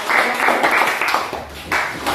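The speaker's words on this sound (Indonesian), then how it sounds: "Tepuk tangan dulu untuk kelompok visual." Applause in a class gathering for a student group, scattered hands clapping in uneven bursts at moderate loudness, with faint voices mixed in.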